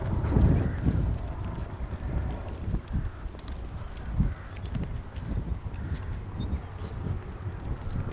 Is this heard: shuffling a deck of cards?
no